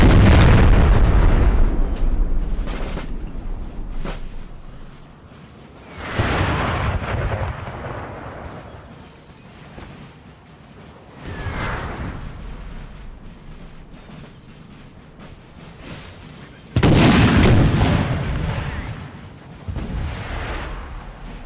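Musket volleys and artillery cannon fire in a Napoleon: Total War 4v4 battle: a handful of loud, booming bursts spaced several seconds apart, each rolling away into rumbling battlefield noise, with no talk over them.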